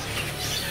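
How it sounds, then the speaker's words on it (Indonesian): Young spotted murai (magpie-robin) chirps faintly amid the busy background din of a bird market, with soft, scattered calls buried in crowd and stall noise. "kali ini ada murai di sini ada murai trotol satu sarangan"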